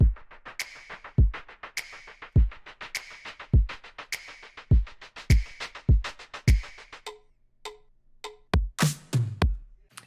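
Electronic drum build-up with deep booming kicks and bright hits in a steady pulse, closing with a short, simple cowbell fill of quick clanks, loud and close with no talking.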